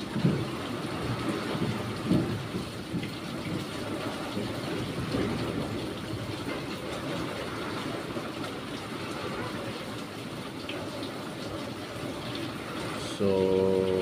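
Strong, steady roaring typhoon wind mixed with rain fills the whole stretch, a dense rushing wash that swells and gusts without pause.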